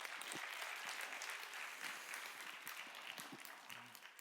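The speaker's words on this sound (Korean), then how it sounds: "문화사역팀에게 다시 한번 감사의 박수하겠습니다" Church congregation at a young adults' worship service applauding the worship team: steady, dense clapping from many hands, fairly faint and distant, continuing without talk over it and easing slightly near the end.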